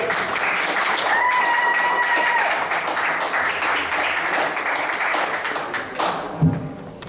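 Audience applause fills a live performance space, a dense steady wash of clapping that fades toward the end, with a brief thump near the close.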